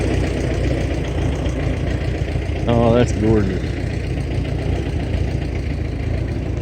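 Old Oliver tractor engine idling at a homesteading expo, a steady low rumbling drone that holds throughout while a person briefly speaks over it.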